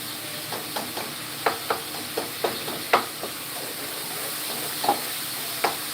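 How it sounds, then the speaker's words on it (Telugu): Tomato pulp stewing in oil for a toor dal chutney, a faint steady sizzle with scattered soft clicks and taps of a stirring spoon against the pan, no voices. "టమోటా గుజ్జు అనేది మంచిగా ఉడకాలి ఆయిల్లో మంచిగా మగ్గాలి"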